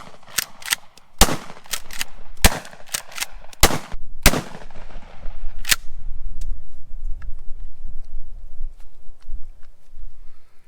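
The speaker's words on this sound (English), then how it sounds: "So just going to be a test of the Mossberg using a 1-point sling on it." A Mossberg shotgun fitted with a one-point sling firing roughly a dozen loud, sharp blasts in quick irregular succession, then quieter handling clatter and rustling outdoors.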